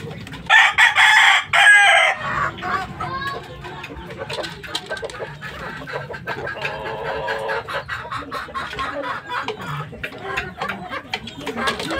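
Fighting cock roosters, a lemon stag and a gold one, crowing loudly and close at first, then quieter clucking and crowing continues under background noise.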